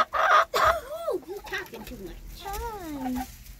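Chickens cluck and make rising, warbling calls close by while being fed, with a few sharp bursts of handling noise at the start.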